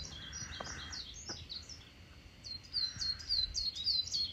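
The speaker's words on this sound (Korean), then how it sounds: "가까이에는 진짜 노래를 부른 것 같은 새소리가 들리고 있어요." Songbirds sing close by along a forest trail on Geumsan in Namhae, with a few soft chirps first, then a brisk run of repeated bright whistled notes in the second half over quiet wind.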